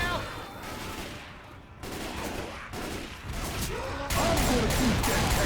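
Dense gunfire and rapid automatic shots aimed at the Tank in the video game Left 4 Dead 2, a loud, continuous fusillade with crashing impacts building toward the end.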